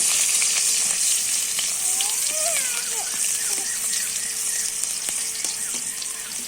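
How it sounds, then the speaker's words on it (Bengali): Chopped garlic and onion frying in hot oil, a loud continuous close-up sizzle with faint stirring and some squeaky tones over it. "তেলে দিলাম রসুন কুচি আর পেঁয়াজ কুচি। এটা একটু নেড়ে নিতে হবে।"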